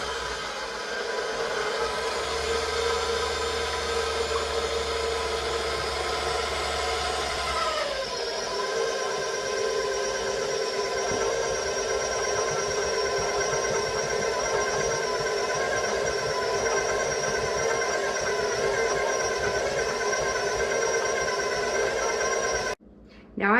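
A KitchenAid stand mixer hums steadily as it mixes flour into a bread dough slurry. The motor drone is continuous and even, with a brief pitch shift early on and an abrupt stop near the end.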